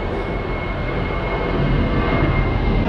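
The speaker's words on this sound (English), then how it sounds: "So yeah, here comes another plane." An airplane passes overhead near Dania Beach, Florida, a loud continuous roar that swells gradually, with no talk.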